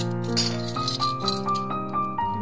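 A silver anklet chain from Salem jingles with small metallic clinks and rattles, close and bright, layered over sustained background music.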